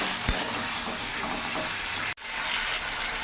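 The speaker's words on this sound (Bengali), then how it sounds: "মিডিয়াম আঁচ করে মশলা দিয়ে ভালো করে কষিয়ে নেব।" Spices frying on medium heat for a rohu fish curry with taro, a continuous sizzle and hiss with a brief knock near the start and a momentary dropout partway through.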